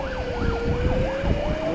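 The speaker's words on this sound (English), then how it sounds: "Where's that ambulance going?" An ambulance siren wails in rising and falling sweeps alongside a steady high tone, heard among traffic noise in outback South Australia, fairly close and continuous, with a low vehicle rumble beneath.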